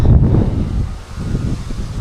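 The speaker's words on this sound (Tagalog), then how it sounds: "Pasulpot-sulpot kasi yung hangin." Gusty outdoor wind buffets the microphone in loud, uneven rushes with a low rumble, steady throughout with no voices.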